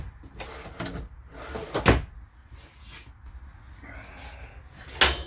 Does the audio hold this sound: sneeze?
no